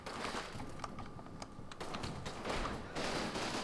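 Distant small-arms and machine-gun fire in a Combat Mission: Fortress Italy battle on the Gustav Line, a faint, continuous crackle of rapid shots with a few sharper reports, no speech.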